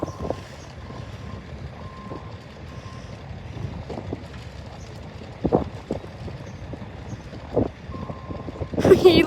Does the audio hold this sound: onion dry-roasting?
no